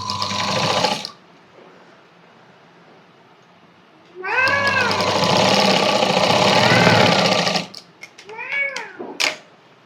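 A sewing machine stitches a cross cut blouse, running in a short burst and then a longer steady whir, while a cat meows repeatedly over and after the machine.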